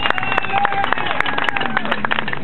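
Crowd at a street rally clapping for municipal council candidates, a dense patter of many hands mixed with babble and cheering, fairly loud and continuous.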